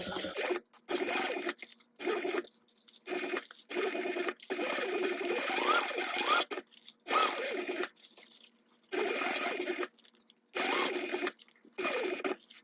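A sewing machine stitches a seam on a mini backpack's front pocket, running in repeated short bursts of steady motor whir broken by brief pauses, close and clear.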